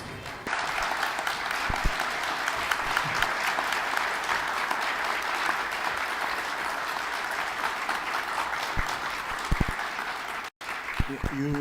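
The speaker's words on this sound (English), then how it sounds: "You mustn't applaud me that much now" An audience at a national ICT summit gives the speaker long, sustained applause, a dense steady wash of clapping with a few louder nearby claps and bumps, briefly cutting out near the end.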